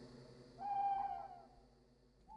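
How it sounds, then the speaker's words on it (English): Owls hooting overhead in dark woods at night: one clear, drawn-out hoot rises over a quiet background, with the start of another call at the end. "and now you hear some owls overhead"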